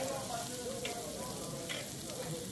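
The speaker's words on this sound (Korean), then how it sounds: "지글거리는 고기 소리가 또다시 우리의 위장을 자극합니다." Samgyeopsal pork belly sizzling on a hot grill plate at a restaurant, a continuous close crackling hiss of frying fat with faint scraping and a few light clinks over the top.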